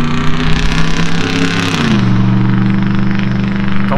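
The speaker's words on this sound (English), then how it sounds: "the loud F-150, really loud for no reason" A loud Ford F-150 truck engine runs nearby with a heavy, steady drone whose pitch drops partway through, with no other sounds competing.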